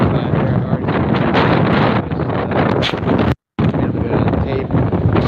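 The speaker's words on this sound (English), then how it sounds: "I know it's really windy" Heavy wind buffeting a microphone outdoors, a constant low roaring rumble that cuts out briefly near the end before resuming.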